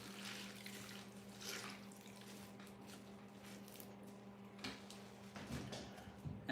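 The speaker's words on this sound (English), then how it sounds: "I basically just kind of massage the greens in here in the water" Salad greens swished and massaged by hand in a bowl of water, soft irregular sloshing and splashes at low level with occasional louder splashes near the end, no talking.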